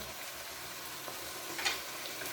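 Salt, coriander powder and spices fry in curry masala for a simple chicken curry, giving a soft, even sizzle and faint stirring scrapes, close but quiet, with no voices.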